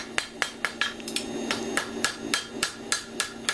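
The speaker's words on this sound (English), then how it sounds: "taking those ball peen hammer marks out from the inside" A ball peen hammer strikes a stainless steel spoon in a steady rhythm, about a dozen sharp ringing blows close by, with no talking.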